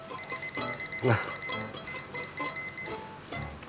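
A kitchen timer alarm set while kneading dough with a stand mixer's hook, beeping in a fast steady series of short pulses all the way through, with a voice and kitchen noise underneath.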